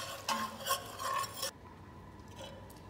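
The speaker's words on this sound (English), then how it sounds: "Stir until heated and then turn off the heat." Food is stirred in a pan while heating, with a utensil scraping and swishing in a few uneven strokes over a soft sizzle, then only the faint sizzle remains.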